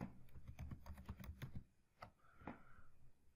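Quick, light clicks of typing on a computer keyboard come in a fast burst, then a few isolated key taps, faint and close, with no voices.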